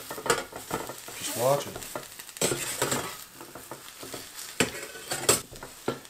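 An omelet and mushrooms fry over low heat in an Outbound stainless steel frying pan, with a soft steady sizzle and occasional utensil scrapes and clinks close by, while a person talks.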